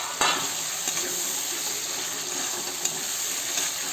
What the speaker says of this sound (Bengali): দেখেন কত সুন্দর করে এই যে কষাচ্ছি চানা দিয়ে।